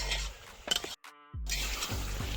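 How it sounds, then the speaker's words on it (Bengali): Tomato masala gravy for a katla fish kalia sizzles and fries in a pan while being stirred, a steady hiss with brief clinks and scrapes and a short quiet gap in the middle. "এইভাবে ভেজে নেবেন। মশলা যত কষাবেন তত ভালো লাগবে।"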